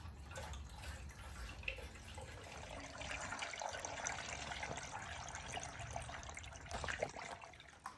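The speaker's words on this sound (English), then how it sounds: "good news is now we are filling coolant." Coolant pours steadily into the cooling system of an S13 with a swapped LS engine, a continuous close liquid trickle and splash that carries on throughout.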